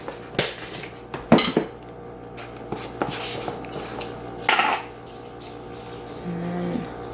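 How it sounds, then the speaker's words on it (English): A scoop of greens powder goes into a container, with scattered close clinks and taps of the scoop against the vessel and a soft rattle, then quieter handling. "I'm getting low on my greens, so a scoop of those."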